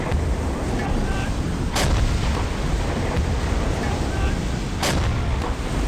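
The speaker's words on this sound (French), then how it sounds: "Ouais, les tirs sont vraiment précis." Artillery gunfire in the naval game Silent Hunter 5 near Lorient and the Île de Groix, a continuous rumbling barrage with two sharp, distinct shot cracks standing out over the din.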